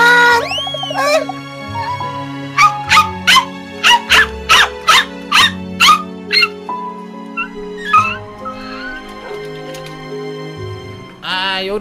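Dog barking and yipping in the Minecraft video game, a run of about ten short, sharp, evenly spaced yips over a soft background tone, with a few higher squeals before and after.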